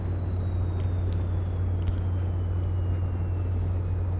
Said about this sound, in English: I like the engine sounds in this.